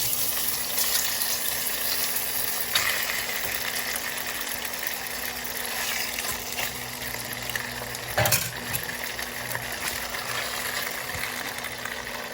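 Diced ham frying in a pan for potato salad, a steady close sizzle running the whole time with a brief clatter partway through, no talking.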